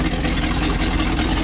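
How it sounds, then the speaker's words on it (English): An RV engine idles close by with a steady, dense, low rumble that stays constant throughout the short moment. "right there is the engine"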